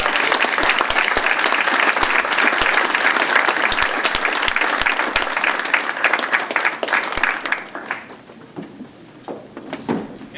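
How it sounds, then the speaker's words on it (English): Steady applause from a sizable crowd at an outdoor Veterans Day ceremony, loud and continuous, then thinning out and fading near the end. "Ladies and gentlemen, round of applause."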